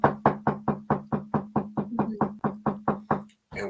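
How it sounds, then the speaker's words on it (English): Rapid knocking during a paranormal game show night, roughly fifteen sharp, evenly spaced raps in a steady rhythm, close and distinct, ending abruptly after a brief pause. "One knock, yes."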